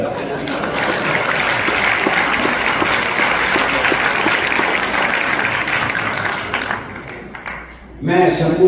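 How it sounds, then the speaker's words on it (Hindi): Sustained applause fills a Hindi comedy poetry gathering in Greater Chicago, a dense, steady roar of many clapping hands lasting several seconds before fading, then a voice returns briefly at the end. "एक बार तालियां बजा।"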